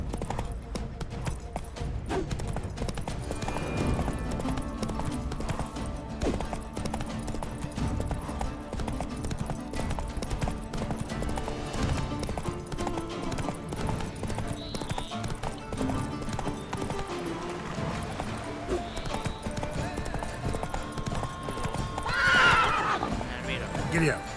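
Roach, the horse in The Witcher 3, neighs and clip-clops at a trot amid game music, with a voice speaking over it.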